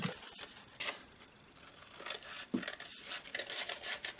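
Scissors cut through paper on an envelope craft project, giving several close, crisp snipping bursts separated by brief pauses, with no one talking.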